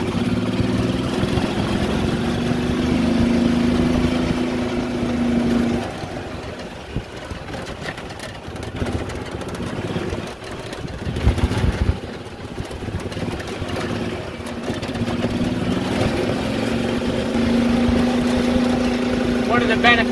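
A Yamaha golf cart being driven after repair for a sputtering fault, its small engine droning steadily and rising in pitch, dipping in the middle before picking up again, with a voice heard over it.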